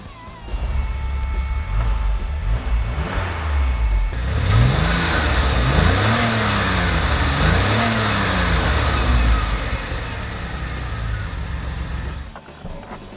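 A 1981 DeLorean with a manual gearbox starts, its engine catching and then revving in several rising and falling surges before settling to a steady close idle, loud and with no talk over it.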